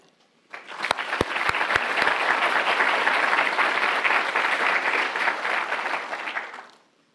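A pharmacy school graduation audience applauds to welcome a student speaker, a few sharp near claps starting it before the clapping swells into sustained, even applause from a large crowd that fades out at the end.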